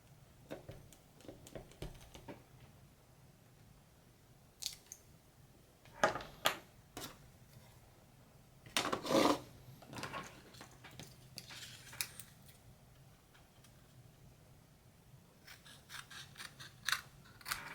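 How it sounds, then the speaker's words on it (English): Scissors cutting out a paper card for a fidget and caregiver quilt, with sharp, close snips coming in irregular bursts and pauses against a quiet room, with no talking. "And then I'll just cut it out and glue it inside."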